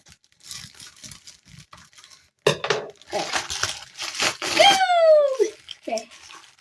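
Plush toy packaging is cut open, with rustling plastic, crinkling and scraping as it is handled, mixed with close, excited talking and exclamations.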